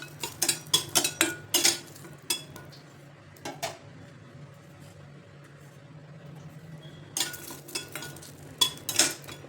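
Dal and garlic are dry-roasted in a pan, with bursts of quick metallic scraping and clinking from a spoon stirring against the pan, separated by a quieter stretch with only faint sizzling and background hum.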